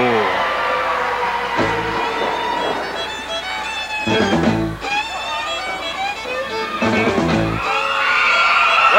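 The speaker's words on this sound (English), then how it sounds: "a big roar goes up in the crowd here in Dungannon, Virginia" A wrestling crowd in Dungannon, Virginia gives a loud, sustained roar of yelling and whooping that swells and surges, with an announcer's voice speaking over the din.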